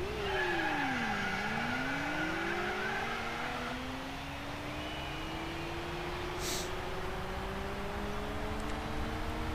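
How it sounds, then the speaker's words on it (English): Mazda 6 in Gran Turismo 4 on the Trial Mountain circuit, engine note sweeping down and back up through gear changes, with tire squeal layered over a continuous hiss. "Driving a Mazda 6"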